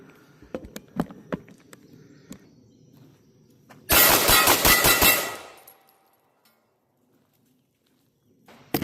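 Several rapid 9mm pistol shots from a Canik Mete SFX, fired in a quick string outdoors; loud, sharp reports with a few scattered shots before a dense burst of about six, then a decaying echo and quiet.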